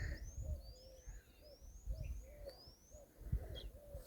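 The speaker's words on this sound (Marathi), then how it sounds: "इतकं सुंदर चिमण्यांचा, पक्ष्यांचा इतका सुंदर येते ना" Birds call around a Mahadev temple: a mix of small birds and a softer, lower hooting or cooing bird repeat every half second or so at moderate distance, in quiet open surroundings with no talking.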